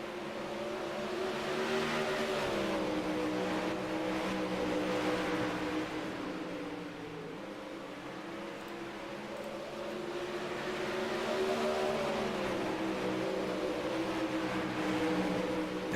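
Five race cars circle a short track in a heat race, their engines droning in a continuous layered roar that swells and dips as the pack passes and moves away.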